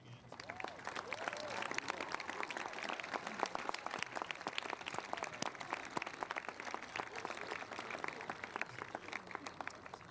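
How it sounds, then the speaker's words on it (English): Faint, sustained applause from a graduation audience honoring the school staff, dense, steady clapping from a distant crowd, continuous for about ten seconds. "I would like them to stand and accept your round of applause"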